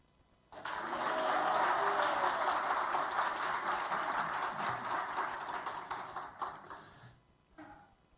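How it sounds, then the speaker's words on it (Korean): A Korean church congregation gives a guest missionary preacher a warm round of applause at a Sunday worship service. The hall fills quickly with steady clapping that lasts several seconds, then fades with a few trailing claps. "뜨겁게 박수로 할렐루야로 환영하겠습니다"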